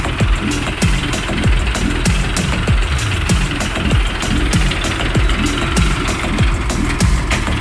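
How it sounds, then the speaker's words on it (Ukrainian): A small diesel engine of a 2023 Jinma 244 Lux mini tractor with wide tires idles with a rapid, steady knocking chug, loud and close, running evenly throughout with no voices. "відвантажував тракторця Джинма 244 люкс, тракторець на широкій резині"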